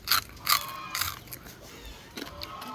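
Biting into crunchy chicharon pork rinds, with three or four sharp, close crunches in quick succession followed by softer chewing crackles.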